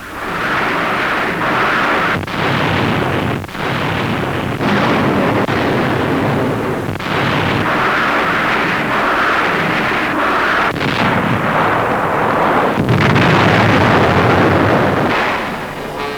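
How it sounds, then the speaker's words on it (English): Rocket fire pounding enemy cave defenses on a shoreline, a continuous loud roar of blasts and rumbling bursts on an old, heavily compressed recording, with a few sharper cuts in the barrage. "Rocket fire plows up enemy cave defenses on shore."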